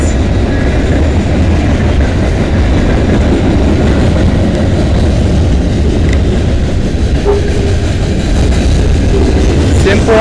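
A freight train rumbles past up close on the Dundas Subdivision in London, Ontario, loud and steady, with rhythmic clatter of wheels over the rails throughout.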